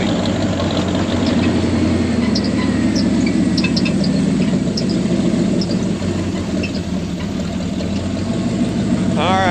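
Dually pickup truck's engine idling steadily while warming up, a continuous low rumble throughout, close and fairly loud, with faint voices in the background.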